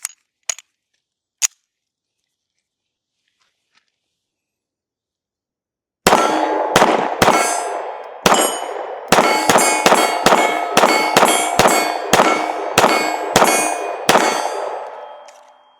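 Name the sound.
shots fired from Fusion XF Pro pistol with Magpul PMAG magazine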